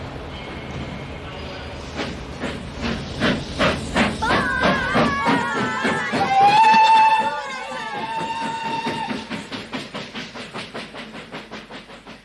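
A steam train's sound effect in an audiobook: a rhythmic chuffing that builds, with a long whistle in the middle, hissing steam, then chuffs that slow and fade.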